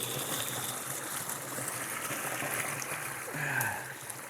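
A chilly woodland creek flowing nearby, a continuous trickling rush of water with a brief splash near the end.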